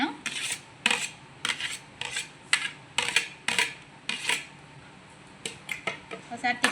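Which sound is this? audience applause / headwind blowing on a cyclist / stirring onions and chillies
stirring onions and chillies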